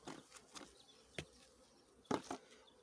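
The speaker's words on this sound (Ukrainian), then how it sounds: "бджола вже почала вилітати за водою" Honey bees fly out of the hive for water on a mild April day, giving faint buzzing passes that swell and fade in several brief bursts against a quiet outdoor background.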